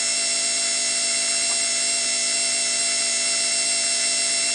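A 90 V DC gear head motor driver assembly made in the USA, running at its highest speed: a loud, steady high-pitched electric whine with strong harmonic tones, unbroken throughout and heard close with no talking.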